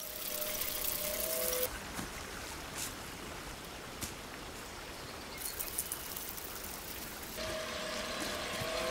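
A river current flowing as a faint, continuous rush of moving water with small splashy trickles, quiet and unbroken throughout.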